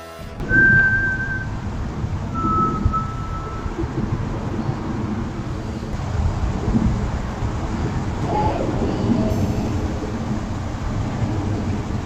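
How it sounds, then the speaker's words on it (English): A few short whistled notes from a person ring out early on, over a steady rumbling background like wind or distant thunder, in the Appalachian Mountains in the evening. "That whistle sounded like it came from a man just getting back from work"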